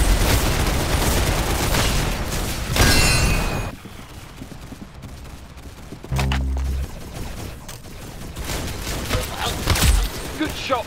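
Gunfire in the Roblox shooter Arsenal: busy, noisy shooting and impacts mixed with game sounds, loudest at the start, dipping to a quieter stretch in the middle, then rising again with a burst near the end.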